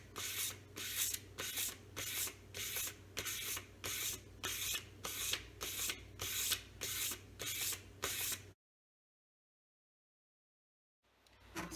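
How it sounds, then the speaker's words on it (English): A knife edge stroked repeatedly on 800 grit sandpaper, even rhythmic scraping passes about twice a second, close and clear, then abrupt silence before a faint return. "this is an 800 grit piece of sandpaper, is I just switch to the other side"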